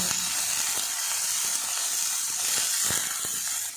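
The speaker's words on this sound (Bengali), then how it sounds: "এবারে এখানে দেখুন পেঁয়াজ দিয়ে দেবো আর দিয়ে দেবো কাঁচা লঙ্কা কুচি।" Onion and chopped green chili frying in a pan, an even hissing sizzle with scattered clicks from stirring, moderately loud and without voices.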